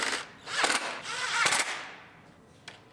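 A power tool bolting a bracket onto a 2019 Sierra Denali HD, two short close whirring bursts that swell and fade, then a single faint click.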